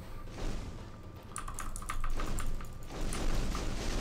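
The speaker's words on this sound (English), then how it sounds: "I apologize about keyboard sounds if you can hear the keyboard" Typing on a mechanical keyboard produces rapid, irregular clacking keystrokes, close and fairly loud, layered over continuous game sound.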